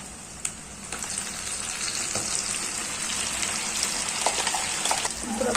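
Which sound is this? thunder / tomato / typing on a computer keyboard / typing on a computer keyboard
tomato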